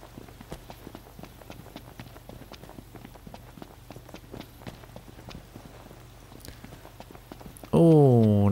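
Horses walk in the Final Fantasy XV video game with a steady, light clip-clop of hooves at a moderate distance. The hoofbeats are cut off by a sudden loud, sweeping tonal sound at the very end.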